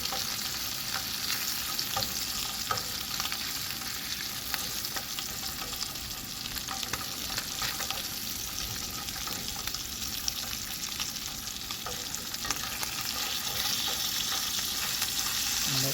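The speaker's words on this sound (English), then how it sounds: "This way, pan frying it with the Johnny seasoning and onions is delicious." Trout pan-frying with seasoning and onions gives a steady, close sizzle and crackle throughout, with occasional stirring scrapes and no talk.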